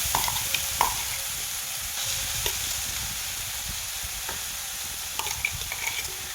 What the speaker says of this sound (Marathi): तर ही हिरवी मिरची आहे ना मी थोडीशी आहे ना तेलावरती परतून घेणार आहे